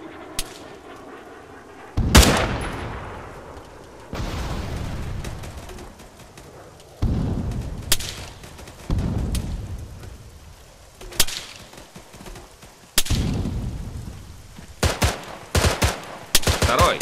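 Enemy gunfire in the military shooter Arma 3 cracks loudly and repeatedly, single shots and short bursts, some near and sharp, others echoing off into the distance, with birds chirping faintly in the background.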